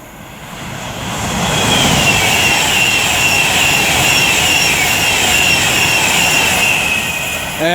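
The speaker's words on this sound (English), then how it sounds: "now approaching with 390151 for Avanti West Coast, working 1 Alpha 58 from Liverpool Lime Street to London Euston" An Avanti West Coast Class 390 Pendolino, unit 390151, approaches Lichfield Trent Valley on the West Coast Main Line, a loud, steady roar swelling within the first two seconds and holding close and sustained, with a high whine riding over the rushing noise.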